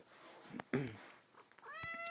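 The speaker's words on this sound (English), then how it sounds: "That's my kitty cat." A pet cat meows once, loud and close, a drawn-out call following a sharp knock, then a quieter tonal, whining sound rises toward the end over a soft background.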